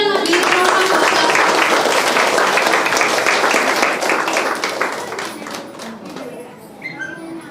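Big round of applause from the audience at a children's drawing competition event, loud dense clapping that gradually thins and fades toward the end, with a voice speaking briefly near the close.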